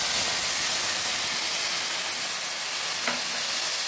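Milk poured into a hot pan of semai for Eid zarda, a steady broad sizzling hiss throughout with a brief splash near the end, close and fairly loud, no talking.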